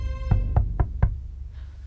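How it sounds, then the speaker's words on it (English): Four sharp knocks of a hand on a wooden door, evenly spaced and close, ringing alone in a quiet room. "A hand finally rapped on the wooden door."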